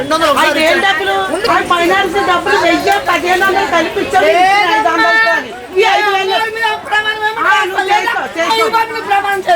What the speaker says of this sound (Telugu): మార్కెట్ అంటే ఆ మాత్రం అరుపులు కేకలు లేకపోతే ఎలా